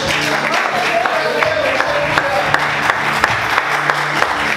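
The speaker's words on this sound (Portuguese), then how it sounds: "Você pode aplaudir a Deus?" Church congregation applauding together during a Portuguese-language evangelical sermon, a steady wash of many hands clapping with scattered sharper claps, while a voice speaks over it.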